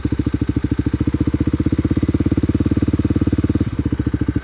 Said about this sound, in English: You hear how it's kind of idling?